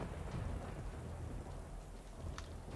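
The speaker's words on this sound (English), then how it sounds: "now let's have her cast rain over here and soak on the floor some more" A rain spell cast in the video game Divinity Original Sin 2, a steady wash of game rainfall with low rumbling, moderately quiet and continuous, without talk.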